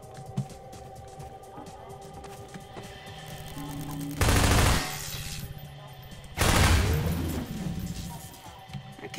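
Gunfire in the video game Half-Life 2: two loud, dense bursts of shots about two seconds apart, each lasting roughly half a second, standing out over a low game background hum with no talking.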